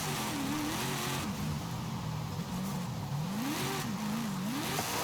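A V8 car engine in Forza Horizon 5 revs continuously, pitch rising and falling in repeated sweeps as it climbs and eases off, loud and steady throughout with no voices.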